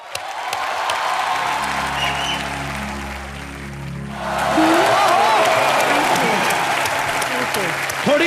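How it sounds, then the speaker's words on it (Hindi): Studio audience applause on a comedy talk show with veteran singers as guests. Clapping starts under a held musical tone, then swells louder and denser, with a voice briefly heard over it. "थोड़ी देर और तालियां बजनी चाहिए अभी लगातार"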